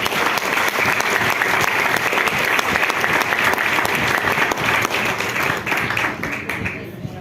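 A church congregation applauds at length, a dense, loud wash of many hands clapping steadily throughout, easing off slightly toward the end.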